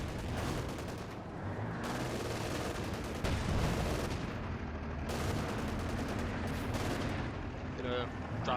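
Sustained gunfire from Panther tanks in Company of Heroes 2 battle, dense rattling bursts and booms rolling continuously, with a voice talking over the combat.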